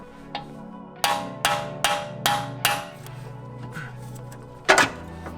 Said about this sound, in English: We're gonna hit that with a hammer.